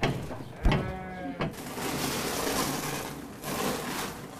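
A sheep on a farm gives one clear bleat, followed by a softer second call, with rough outdoor ambience and rustling after.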